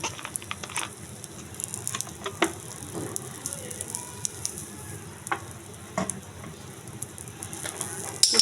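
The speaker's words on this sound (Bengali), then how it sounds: "তো চলুন আমরা মাছ ভাজাটা বসাই দিই" Puti fish frying in a little oil, a soft continuous sizzle with scattered spatters and the scrape of stirring, close and moderately quiet.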